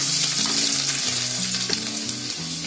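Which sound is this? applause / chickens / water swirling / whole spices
whole spices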